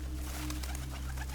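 Soft, low pigeon cooing carries through the whole short stretch, a steady murmuring call with no voices over it.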